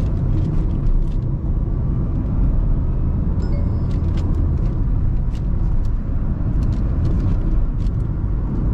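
A Mahindra XUV 3XO AX5 diesel SUV cruising in sixth gear, heard from inside as a steady low engine drone and road rumble, constant and fairly loud throughout.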